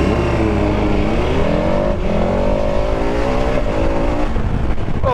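A 2021 KTM 1290 Super Adventure S motorcycle accelerates hard, its engine note climbing steadily through the gears, loud and close with a continuous rising roar and no speech.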